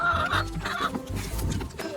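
Several chickens cluck and murmur close by in a steady, busy chatter, with short sharper calls breaking through.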